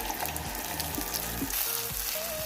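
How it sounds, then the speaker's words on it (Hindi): Spice and tomato paste frying in half a cup of ghee for a chicken zinger karahi, a steady close sizzle with faint clinks of stirring throughout, no talking. "अब मैंने इसे फ्राई करना है और खूब भून लेना है इसे।"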